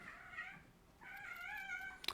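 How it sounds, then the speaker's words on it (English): A pet cat meows twice indoors in a quiet room, a short call followed by a longer drawn-out one, close and moderately loud, ending with a faint sharp tap. "Apologies if you can hear my cat there."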